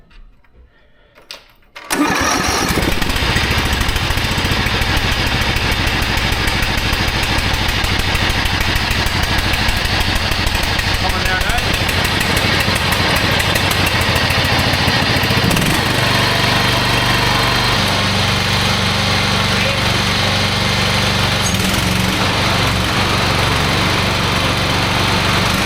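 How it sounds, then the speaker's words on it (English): An old ride-on lawn mower engine cranks briefly after near silence, catches and starts, then runs loudly and steadily close by for the rest of the stretch, with slight changes in pitch near the end. "start up our engine"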